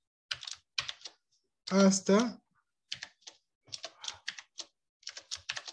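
Computer keyboard typing in quick bursts of clicky keystrokes spread through the clip, close and fairly quiet, with a voice briefly speaking between the typing.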